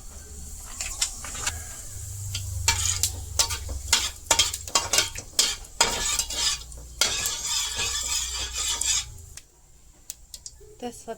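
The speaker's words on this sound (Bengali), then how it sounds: "আমি তেল দিয়ে দিছি, এখন পাঁচফোড়ন দিয়ে দিলাম।" Panch phoron seeds crackle and sizzle in hot oil in a home kitchen pan while kachu loti and potatoes are being cooked. Busy spoon scraping and clatter break through the frying, which fades toward the end, and talk runs over it.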